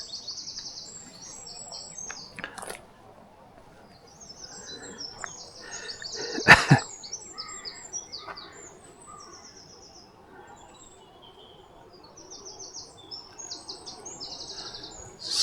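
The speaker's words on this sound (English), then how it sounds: "So from here I can hear the bird song along here" Birdsong carries along a woodland path, with scattered high chirps and trills coming in bursts at moderate distance, a soft insect hum underneath and one sharp close knock midway.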